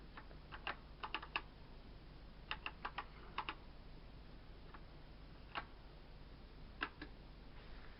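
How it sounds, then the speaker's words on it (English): Keys tapped on a 1984 BBC Micro computer keyboard, in short irregular bursts of clicks with pauses between them, faint over a steady low hum. "Try typing in again."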